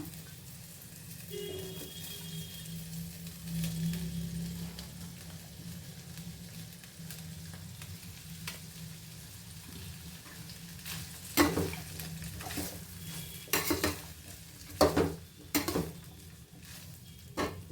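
Cooked rice for a North Indian-style pulao is tipped into a pan and stirred, with a low background hum, soft scraping and a cluster of sharp spoon-on-pan clinks toward the end.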